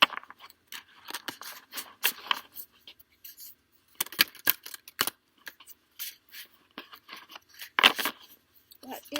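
Tarot cards are shuffled by hand in irregular bursts of crisp riffling and slapping, close and fairly loud, with brief pauses between flurries and no talk.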